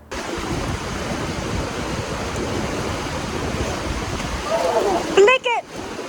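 Steady broadband rush of river water flowing near Leavenworth, continuous and fairly loud, with a brief splashy disturbance near the end.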